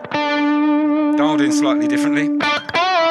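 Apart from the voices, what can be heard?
electric guitar through Boss GT-1000 Plexi amp model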